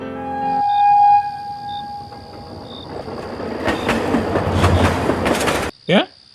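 A train rumbles past a station at night with a horn-like tone at first, then rising clatter and screeching wheels, ending abruptly followed by a brief squeal.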